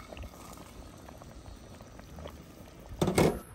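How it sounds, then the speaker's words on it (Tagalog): Milkfish and pork soup soured with santol fruit simmering gently in a pot, a soft continuous bubbling with a brief louder burst of bubbling near the end. "Alalay lang ang kulo niya."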